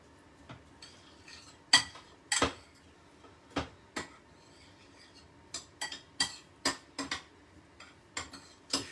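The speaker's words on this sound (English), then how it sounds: "Just give this a good mix up." Utensils clink and scrape against a bowl while carrot and other slaw ingredients are mixed, with a steady series of sharp, close metallic taps and knocks spaced irregularly over quiet background.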